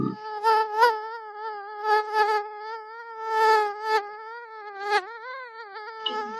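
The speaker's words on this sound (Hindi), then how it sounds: "बहुत मच्छर लागत है।" A mosquito whines close to the ear through a sleepless night indoors, a continuous high, nasal buzz that wavers and swells in pitch and loudness for several seconds, heard alone with no talking.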